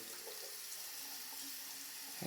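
Tap water running over winter training gloves, a steady, quiet hiss of flowing water splashing on fabric that continues throughout, with a brief louder splash at the end.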